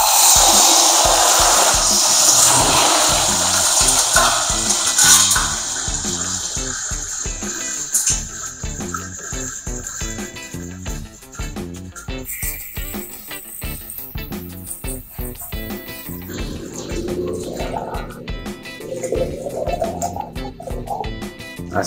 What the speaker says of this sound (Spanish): Entonces este es el proceso de llenado.